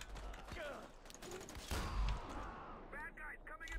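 Scattered gunfire and mechanical clatter in a Far Cry 4 firefight, a few sharp bursts mixed with game noise and ambience, moderately loud.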